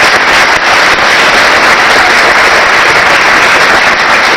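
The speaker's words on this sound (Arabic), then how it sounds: "تصفيق على نسمة" A crowd applauds Nesma with loud, dense clapping that runs without a break for the whole span and barely varies in level.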